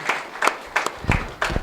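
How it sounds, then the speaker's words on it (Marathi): An audience at a political gathering claps to welcome a guest, with a few scattered, separate handclaps rather than a full roar of applause. "जोरदार टाळ्या वाजवायच्या आहेत"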